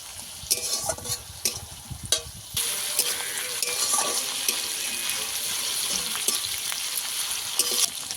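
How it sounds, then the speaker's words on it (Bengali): Onion paste frying in a pan for a Bengali doi bhetki fish curry: a loud, steady sizzle close by, with a few sharp stirring scrapes early on and no talking. "আবারও ভালো করে পেঁয়াজ ভেজে নিতে হবে"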